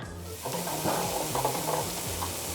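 French fries frying in hot oil, a steady close sizzle and bubbling hiss with faint stirring and scraping sounds layered over it, no voices.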